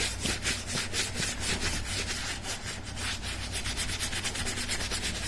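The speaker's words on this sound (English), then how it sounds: "you just get it and rub it in real good until it lathers up a little bit" Leather cleaner is worked into motorcycle gear until it lathers, giving a rapid, rhythmic scrubbing rasp, close and steady, with quick repeated strokes and no talk.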